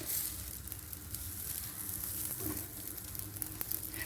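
Dough pastries fry in a pan with a soft, steady sizzle and occasional faint crackles, quiet and continuous with no voices.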